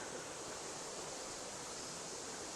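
Steady broadband rush of water flowing in an outdoor stream used as a wild drinking-water supply, continuous and fairly close with no pauses, and no voices over it.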